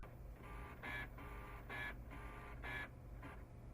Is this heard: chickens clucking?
no